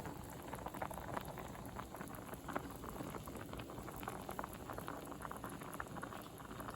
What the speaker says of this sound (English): The rice is coming to a boil.